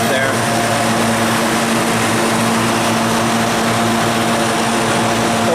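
A 3 horsepower coolant chiller compressor runs with a steady, loud mechanical drone and a constant tonal hum, unchanging throughout.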